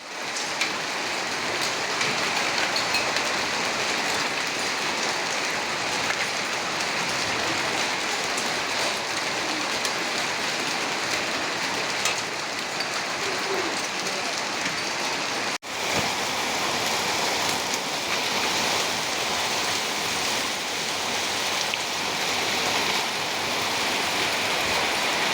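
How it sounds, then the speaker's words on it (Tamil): Heavy rain mixed with hailstones falls steadily on surfaces outdoors, a dense, loud, unbroken hiss and patter lasting throughout with no voices. "சரியான கல் மழைங்க, பேட்டே எடுத்துச்சிங்க. மழை சரியான மழை."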